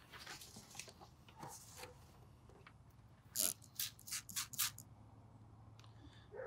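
A spray bottle misting bleach onto a poly shirt, about six short sharp hissing squirts in an uneven burst near the microphone, after softer handling noises in a quiet room.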